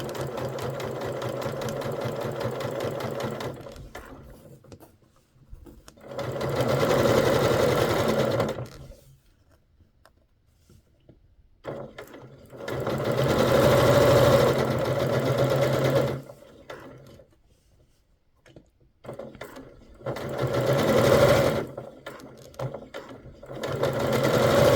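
A sewing machine stitching quilt block pieces runs in three loud, steady bursts of rapid whirring and clatter, separated by quiet pauses.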